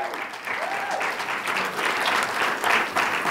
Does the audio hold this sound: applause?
yes